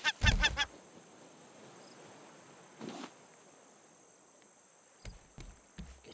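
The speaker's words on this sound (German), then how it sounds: "Der Vogel stört mich aber." A bird in the survival video game Raft gives a quick burst of harsh honking calls, then a fainter cry follows over a steady high electronic tone, with a few soft clicks near the end and no talking.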